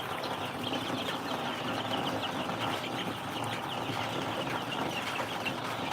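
A crowd of original Tiger breed chicks chirps in a dense, continuous chatter that stays steady and fairly loud throughout, with no talking.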